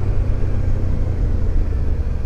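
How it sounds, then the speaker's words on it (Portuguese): A heavy truck rumbles past on a wet mountain road in the Serra Dona Francisca, a loud, close, continuous low engine drone with no talking. "Vê que aquele caminhão tá vindo ali"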